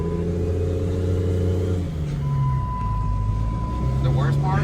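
Budget compound-turbo diesel shop truck engine running steadily while driving, a loud continuous low drone with shifting tone under ongoing talk in the cab.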